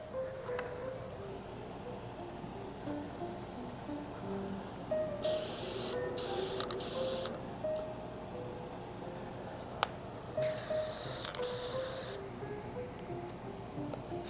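A spray gun applies finish to woodworking pieces in a shop, with two hissing bursts, each a couple of seconds long and briefly broken up, standing out loudly above a quiet room tone.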